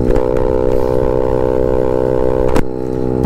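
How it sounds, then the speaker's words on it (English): Loud, buzzing exhaust of a Honda Ruckus scooter with a GET engine drones steadily, then cuts off abruptly near the end. "this exhaust sounds like poop"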